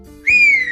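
A woman gives a single loud, sustained whistle that rises then holds steady, sounding close and clear over a faint low background hum, as part of a Hindi family story.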